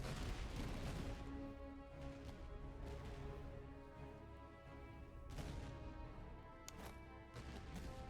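Soldiers firing a volley in the Napoleonic-era strategy game Master of Command, heard as rolling, crackling gunfire and distant booms spread across a noisy battlefield.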